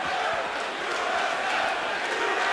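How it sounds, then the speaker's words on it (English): Arena crowd at an MMA fight in Mississippi chanting USA, a dense, sustained roar of many voices filling the space without pause. "And the crowd here in Mississippi chanting USA"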